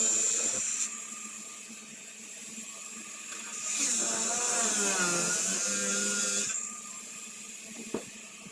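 A power drill whines steadily as it drives 2-inch screws into wood siding boards during a floor board installation, with a rising strained pitch midway as a screw bites in, then a brief knock near the end.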